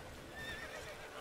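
A horse in The Witcher 3 lets out a single shrill, wavering whinny that rises and falls over about a second, close and clear above a bed of game ambience.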